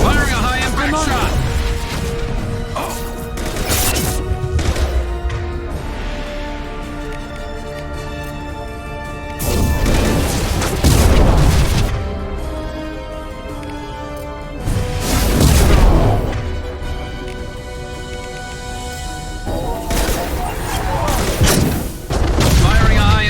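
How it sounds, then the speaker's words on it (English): Heavy booming shots fire in Mass Effect 2 on Insanity difficulty, several loud impacts spaced across a stretch of combat with voices talking between them. "Firing a high impact I'm on shot."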